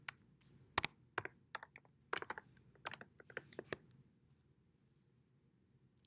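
Password being typed on a computer keyboard during iPhone/iPad development setup: a quick run of separate key taps in irregular bursts, close and fairly quiet, then a stretch of near silence.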